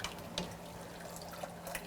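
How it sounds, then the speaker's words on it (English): Hot water runs off a canning jar lifted from a water-bath canner with a jar lifter, a soft continuous trickle and splash with a few small drips, close by and without talk. "I just kind of gently turn it so the water comes out"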